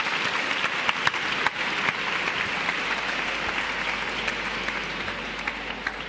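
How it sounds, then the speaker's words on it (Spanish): A live audience gives a steady round of applause for a young climate activist at a science truck event, dense clapping sustained evenly throughout with a few sharper claps standing out. "un aplauso para ella."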